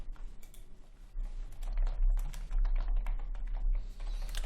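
Rapid typing on a mechanical computer keyboard, with dense clusters of crisp key clicks in an irregular rhythm, close and fairly loud against a quiet background.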